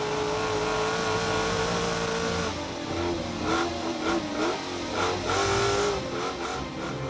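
Trophy truck leaving the start of the Finke Desert Race in Alice Springs, its engine revving high and then climbing through several surging bursts as it accelerates away, loud and close.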